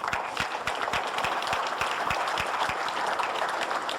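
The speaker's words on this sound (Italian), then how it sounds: "un applauso" Sustained, steady applause from an audience at a cycling awards ceremony in Terralba, Sardinia, dense clapping filling the hall with a few louder individual claps standing out.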